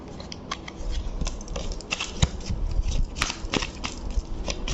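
Tarot cards in a pick-a-card reading being drawn and handled, quick papery slides and crisp snaps in an irregular rhythm, close and fairly soft, with no talk.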